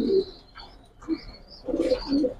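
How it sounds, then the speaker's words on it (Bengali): A racer pigeon coos softly while someone handles it, giving a few low, throaty burbles spaced over a couple of seconds with faint chirps behind. "ডিমের কবুতর"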